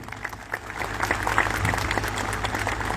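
Loud applause from the audience at a ceremony inaugurating a design and research institute building, a dense crowd clapping that swells and holds steady for a few seconds, close and continuous with no voices over it.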